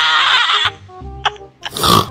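A human voice imitates a screaming pig with loud, close, harsh squeals and grunts in several short bursts.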